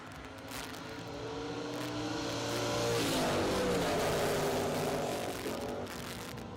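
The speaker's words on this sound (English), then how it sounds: "Great drag race." Drag racing cars, including a Camaro and a dragster, roar down the strip, engine noise swelling as they accelerate and pass, loud and sustained, then fading slightly at the end.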